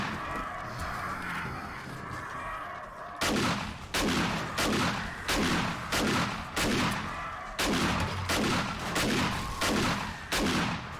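Repeated loud gun blasts in 7 Days to Die fired into a zombie horde, spaced roughly half a second apart in two long runs after a stretch of rumbling background noise.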